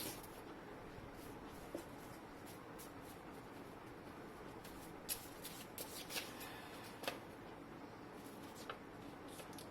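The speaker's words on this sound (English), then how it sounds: "Let's get some message cards here, okay, for some more clarity." Message cards being shuffled: a soft continuous riffling and sliding close by, with a few sharper card snaps and taps scattered through it and no voice.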